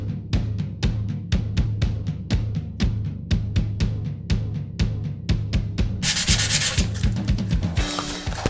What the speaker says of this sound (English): sanding these carbon frames is like peeling potatoes